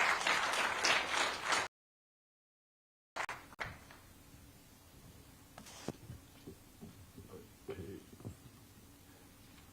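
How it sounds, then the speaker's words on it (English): Audience applause at an economic diplomacy and digital trade launch event, brisk clapping from a crowd at the start, followed after a short gap by scattered faint sounds and light movement in a quiet room. "a warm round of applause."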